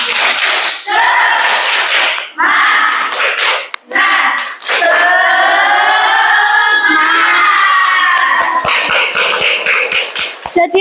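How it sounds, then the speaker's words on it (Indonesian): Students in a university micro-teaching economics class perform the tepuk semangat ice-breaker, a loud group chant with rhythmic clapping bursts throughout, mixed with shouting voices. "Ayo kita ice breaking lagi seperti tadi. Tepuk semangat."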